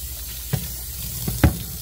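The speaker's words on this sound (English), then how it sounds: "I'm going to kind of rinse out this bowl real quick" A bowl rinsed under a running kitchen tap, water hissing steadily with a few brief splashes and knocks, close and fairly quiet, no voices.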